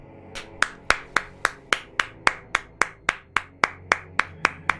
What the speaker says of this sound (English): can we get a fucking round of applause for that?